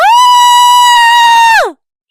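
A girl screaming in an animated story, one long piercing sustained scream at very high volume that holds steady then drops off abruptly, leaving silence.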